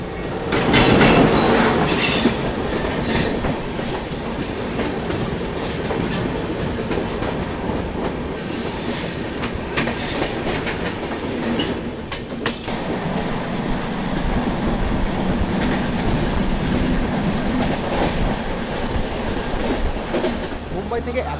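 A Duronto Express train sits at platform 3 of Durg Junction on the Mumbai–Howrah route, with a steady rumbling rail hum, clanks and brief squeals heard from aboard, continuous and fairly loud with no talk.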